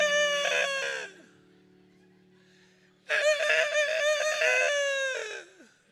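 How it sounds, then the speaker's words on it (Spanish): A rooster crows twice, close and loud, with a short first call and a longer drawn-out second crow separated by about two seconds of near silence. "Ese es un gallo. That's a rooster."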